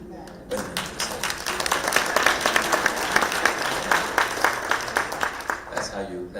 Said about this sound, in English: That's how you clap at a Braves game.